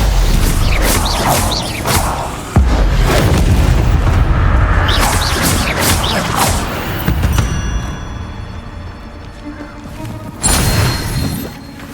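A fire spell being cast in Hogwarts Legacy: loud whooshing booms and crashing bursts, several in a row over a rumbling background, with a sharp hit at the start and another near the end.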